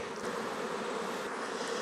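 Honey bees at a beekeeper's hive, during queen checks and nuc transfers, make a steady, dense buzzing drone that fills the whole moment without pause or voices.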